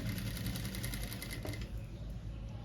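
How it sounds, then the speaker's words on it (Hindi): A sewing machine runs a straight stitch along the shoulder joint of a kurti, its rapid needle chatter steady and close throughout, with a brief slowdown midway. "और आप इसको सीधी सिलाई लगा दीजिए"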